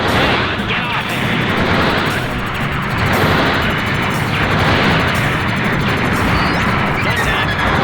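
Cannon fire and explosions from the Gundam: Federation vs Zeon DX video game, dense and continuous over game music and effects, with a voice speaking over the action.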